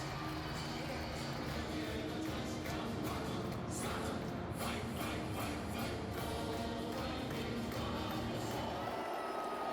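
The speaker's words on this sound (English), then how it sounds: "Vikings fans are turning up the noise to keep it that way" Vikings fans roar inside U.S. Bank Stadium while the home team holds an early 14-0 lead, a dense continuous crowd noise filling the whole stretch with swelling cheers throughout.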